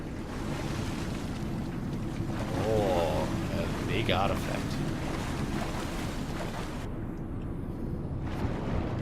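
Water ambience in the Darksiders video game, a steady wash of surf-like rushing water with a low rumble underneath, while someone talks briefly over it.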